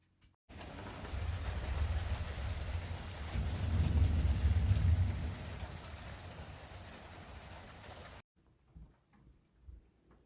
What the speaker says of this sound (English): I know you hate the rain and the thunder